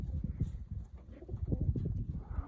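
Young racing pigeons coo in their loft, low throaty burbling calls overlapping in a continuous murmur close by, with faint rustling underneath.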